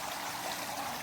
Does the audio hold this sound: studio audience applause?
no